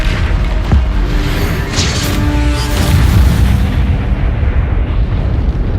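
The Confringo fire spell exploding in Hogwarts Legacy during a fight with spiders, a loud rumbling boom with crackling bursts over continuous low, heavy combat noise.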